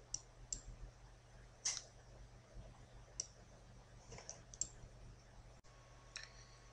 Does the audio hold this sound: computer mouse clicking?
yes